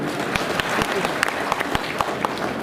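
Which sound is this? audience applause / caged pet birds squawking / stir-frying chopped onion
audience applause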